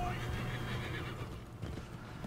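Horse neighing in the Assassin's Creed 3 video game, a loud whinny over a steady low game hum with faint hoof clip-clop, while someone talks over it.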